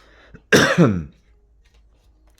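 A single short cough, close and sharp, breaks an otherwise quiet room, followed by near silence.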